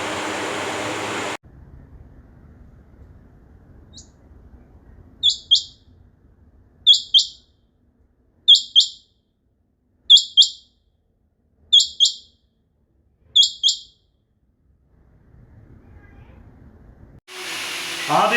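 Sindhi partridges (teetar) give a series of six sharp, paired call notes at a steady rhythm, moderately near, in an otherwise quiet setting. Brief noisy sounds come before and after the calls.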